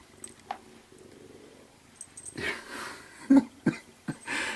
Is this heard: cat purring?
yes